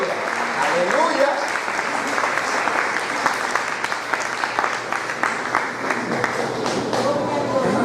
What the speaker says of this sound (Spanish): ¿Cuántos le dan un aplauso a ese Dios que vive?